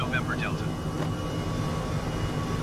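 A helicopter in Microsoft Flight Simulator 2020 flies over Iceland near the Fagradalsfjall volcano, a steady engine and rotor drone that holds at an even level throughout, with a few faint tonal blips early on.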